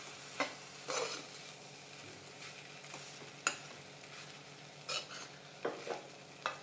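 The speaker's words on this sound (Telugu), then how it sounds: "వెనిగర్ వేసుకొని బాగా కలుపుకోవాలి" Vinegar being stirred into gobi rice in a pan, with soft scraping and a faint background sizzle broken by several sharp spoon clinks against the pan, quiet overall and with no talking.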